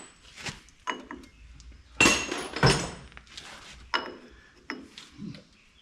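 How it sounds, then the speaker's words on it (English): Sharp metallic hammer strikes on a socket fitted over a stubborn nut on a Farmall Super A tractor, several close, loud clanging hits spaced irregularly with a burst around the middle, with some talk in between. "Hit the socket."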